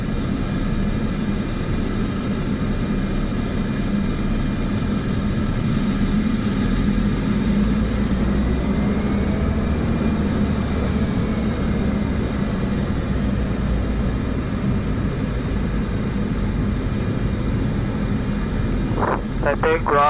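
Airliner engines spooling up during pushback in Microsoft Flight Simulator 2024, a steady broad turbine drone with a rising whine that holds throughout, while radio voices talk over it.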